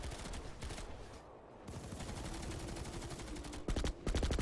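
Rapid bursts of gunfire from a competitive video game match crackle almost continuously, with dense rattling volleys that briefly thin out midway and then return louder at the end; there is no speech.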